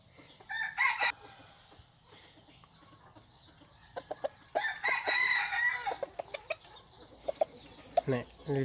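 Several roosters crow repeatedly at a farmyard, some nearer and some farther off, with clucking and faint background noise between calls.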